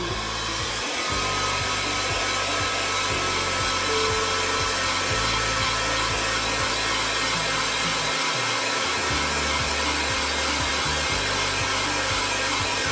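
A hair dryer blows continuously on chalk paste spread over a craft board, a loud, steady whooshing roar that fills the whole stretch, briefly shifting pitch as it is moved.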